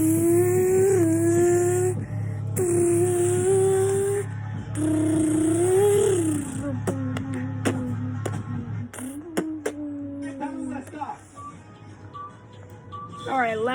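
A young boy imitates a Nissan Skyline R34 with his mouth, voicing a loud, close engine drone that rises and falls through revs, gear shifts and sputtering pops, ending in choppy bursts.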